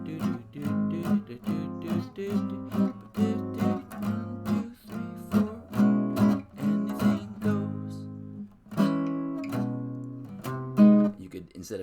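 Swing-style guitar chords for a standard are strummed in a steady rhythmic comping pattern, with full, ringing chords changing every beat or two. The playing is close and continuous, with a brief pause before the next phrase.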